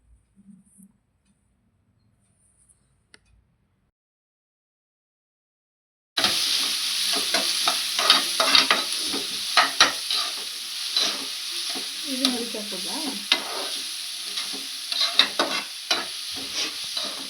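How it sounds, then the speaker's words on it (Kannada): Onions fry in hot oil in a pan for a masala egg omelette, starting after several seconds of near silence with a loud continuous sizzle broken by scraping stir strokes and occasional clinks. "ಈರುಳ್ಳಿ ಹಾಕಿ ಅದು ಗೋಲ್ಡನ್ ಬ್ರೌನ್ ಬರೋವರೆಗೂ ಫ್ರೈ ಮಾಡ್ಕೋಬೇಕು"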